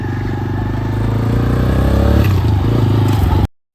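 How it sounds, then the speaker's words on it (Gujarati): A motorbike engine drones steadily close by on a road, loud and continuous for over three seconds with some rattling scrape, then cuts off abruptly. "બાઇક જ હોવું જોઈએ."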